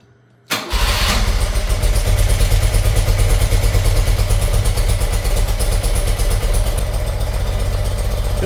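A 1977 BMW R75/7 motorcycle engine starts after a short silence, then settles into a steady, loud, close idle with a low, even throb that carries on alone to the end.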